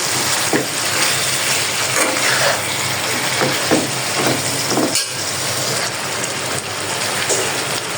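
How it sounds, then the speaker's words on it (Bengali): Potatoes, eggplant, tomato and green chili fry together in spiced oil, a loud, steady, close-up sizzle with a few brief stirring bumps throughout. "এখন আমি হচ্ছে এই সবগুলো আলু, বেগুন, টমেটো, কাঁচামরিচ একসাথে দিয়ে দিব"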